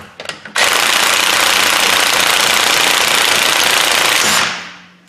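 A Kia Sedona with a broken front axle is cranked, then its engine catches and runs, loud and close with a steady roaring clatter for several seconds before it cuts off.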